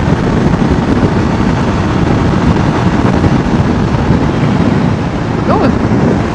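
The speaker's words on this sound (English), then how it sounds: "that wind is brutal again today" Strong, steady wind roars and buffets against a learner rider's motorcycle helmet microphone while riding on a sunny UK day, a constant loud rumble throughout with no clear engine note standing out.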